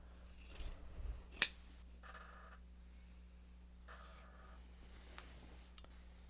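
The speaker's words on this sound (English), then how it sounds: "we just trim it so that it cuts through both interior and exterior" Scissors trim the seam edges of a sewn fabric bag, cutting through both interior and exterior layers: one sharp close snip, then a couple of faint clicks in an otherwise quiet room with a low steady hum.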